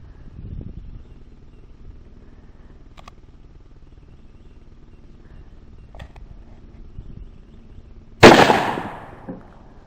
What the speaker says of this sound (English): See if we actually got on point here at this range, and before we go out there and shoot.